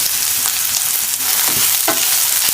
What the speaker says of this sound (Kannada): ಇದು ಕೂಡ ಎಣ್ಣೆ ಚೆನ್ನಾಗಿ ಫ್ರೈ ಮಾಡಬೇಕು